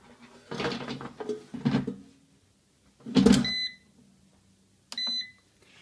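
An air fryer signals the end of a cooking cycle with a short burst of bright electronic beeps, then a single beep a couple of seconds later, after some clattering and rustling near a kitchen counter.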